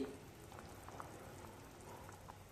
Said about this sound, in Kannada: ರಸಮ್ ವಿತ್ ಸೂಪ್ ರೆಡಿ ಆಗೈತಿ ನೋಡ್ರಿ ನೋಡ್ಬೋದು ನೀವು ಕುದಿ ಹಾಕತೈತಿ